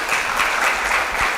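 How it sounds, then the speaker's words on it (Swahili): An audience at a health forum applauds the panelists, steady clapping that holds at an even level throughout, heard from a moderate distance with no talking. "naomba makofi kwa panelists."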